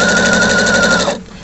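A sewing machine stitches along piping cord, a loud steady mechanical whir with a fast needle rhythm that runs close up and then stops abruptly.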